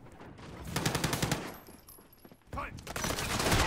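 Gunfire in the video game Call of Duty Modern Warfare (2019): a rapid automatic burst, a short pause, then more shooting, with players talking over it.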